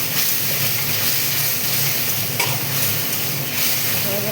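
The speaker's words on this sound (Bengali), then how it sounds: "একটু নাড়লাম, কষতে থাকলাম।" Spices being stirred and sautéed in ghee and water, a dense continuous sizzle and hiss with faint scraping, close and steady throughout.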